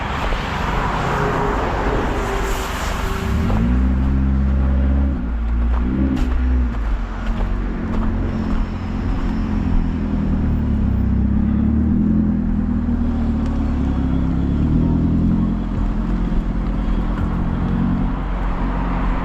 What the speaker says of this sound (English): So that car's got no muffler.